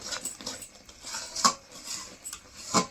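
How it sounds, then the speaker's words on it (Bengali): A spoon stirring frequently in a kadai of gujiya filling made with nolen gur patali and ghee, giving a run of soft metallic scrapes and clinks with a few sharper knocks, close and alone. "কড়াইতে যাতে লেগে না যায় সেজন্য ঘন ঘন নাড়তে হবে"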